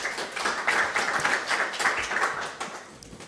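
Audience applause at a French-language talk or presentation, a few seconds of steady clapping from a group that fades out toward the end.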